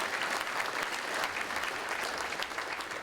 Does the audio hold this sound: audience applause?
yes